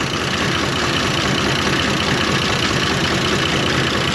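A 1930 International fire truck engine idles steadily with a rough, uneven lope from a misfire, loud and close throughout with no talking.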